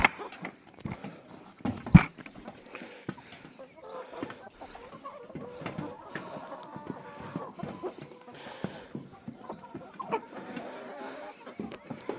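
Chickens cluck around their coop at feeding time, a busy scatter of hen calls mixed with clattering, hoof-like footsteps and shuffling, all fairly close and moderately loud.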